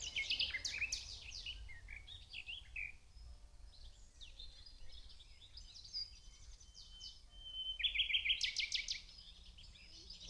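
Birds chirp and trill outdoors in Germany, several bright calls near the start and a denser burst of song toward the end over a low steady background hum, with no talking.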